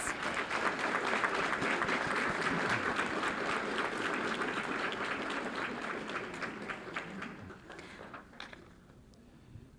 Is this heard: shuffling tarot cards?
no